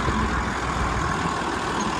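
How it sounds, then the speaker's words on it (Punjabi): A tractor engine drones steadily at close range, a low continuous rumble as it drives through a flooded, puddled rice field in a rainy village. "ਉਹ ਆ ਗਿਆ ਟਰੈਕਟਰ ਆਪਣੇ ਕੱਦੂ ਕਰਕੇ ਹੈਰ ਹੋਏ"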